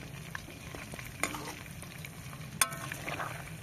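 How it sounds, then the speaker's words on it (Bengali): Chili chicken pakoras frying in a large wok over a small stove at an outdoor picnic, with a steady close sizzle and a few sharp clinks of stirring. "পকোড়া বলতে চিলি চিকেনের পকোড়াটা এখন হচ্ছে।"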